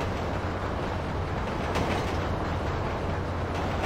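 A train in GTA 5 rumbles past during a derailment mission, a steady, loud, continuous roar with low rumble and rattling that stays constant throughout.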